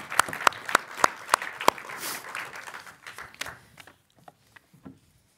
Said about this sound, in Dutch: mag ik een luid applaus voor Joke van Leeuwen